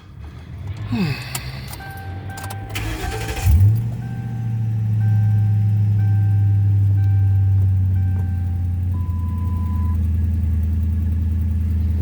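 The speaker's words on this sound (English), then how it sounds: "Now we can start the car, roll it up, get it off the chalk." A 2011 Ford Crown Victoria is started with keys jingling first, then the engine cranks and catches with a loud rising rev before settling into a steady, low, rumbling idle that carries on to the end.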